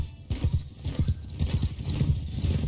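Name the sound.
horse hooves in Mount & Blade II Bannerlord video game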